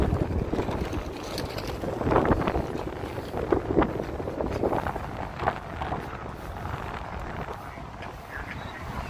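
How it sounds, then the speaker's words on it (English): Gusty wind blowing outdoors on a Las Vegas street at night, a steady broadband rush with stronger buffets hitting the microphone, and faint voices in the background. "I want to try to stay out of this wind."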